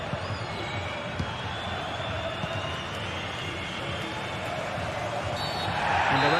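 Roaring stadium crowd in a football video game, a steady dense wash of cheering and chanting that holds throughout and swells louder near the end.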